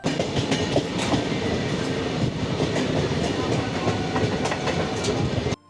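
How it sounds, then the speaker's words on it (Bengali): The Deoghar-Howrah Mayurakshi Express rolls along with a continuous close rumble, and rhythmic clickety-clack wheel beats repeat throughout before the sound cuts off abruptly. "এটি দেওঘর হাওড়া ময়ূরাক্ষী এক্সপ্রেস ছিল"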